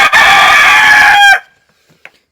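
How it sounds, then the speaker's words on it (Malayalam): A black Kadaknath chicken crows once, loud and close, a sustained call of just over a second that cuts off sharply, followed by a couple of faint clucks. "പിന്നെ കരിങ്കോഴി എന്നാൽ ഇതാ ഒന്നിത്"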